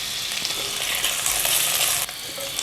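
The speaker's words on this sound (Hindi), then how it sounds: "थोड़ा सा लहसुन डाल के ना, 1 चाय का चम्मच लहसुन पिसा और 3 हरी मिर्चें डाल के इसको भूनते हैं।" Steady, loud sizzling of potatoes frying in a pan with crushed garlic and green chillies, continuous and close with faint stirring.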